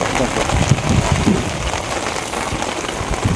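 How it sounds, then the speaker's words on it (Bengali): Steady monsoon rain pattering hard on a surface during village fishing at a wetland, a dense continuous hiss with faint speech-like murmurs underneath. "বৃষ্টি ঠান্ডা আছে ওই যাইতেছে বৃষ্টি"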